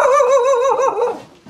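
A dog in a rural village barks in a short run of yelping, wavering calls close by, then falls briefly quiet before a final bark.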